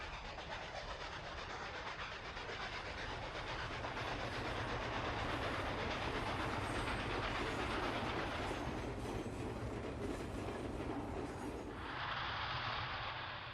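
An articulated R2 model train rolls out of a curve onto a layout bridge at a model railway, its steady rumble and light wheel clatter continuous and fairly close, shifting in tone near the end.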